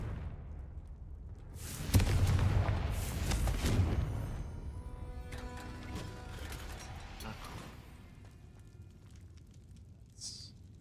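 A Confringo blasting spell from Hogwarts Legacy erupts in a loud fiery burst with a crackling follow-up blast, then a lingering rumble and mechanical clatter that gradually fade, with a faint high chime near the end.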